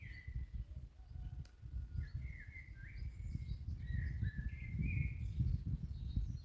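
A bird sings faint, clear whistled phrases from a distance behind trees, repeated over steady low rumble and rustling outdoors.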